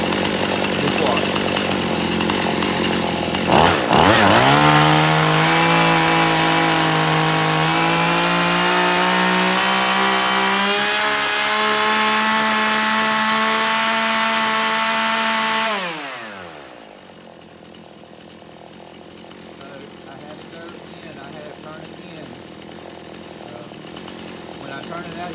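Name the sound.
chainsaw idling while carburetor is adjusted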